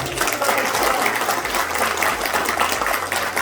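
A crowd at a welcome reception for a Korean camping car show applauds steadily, a dense and continuous clapping that stays loud from start to finish, with faint low sounds underneath.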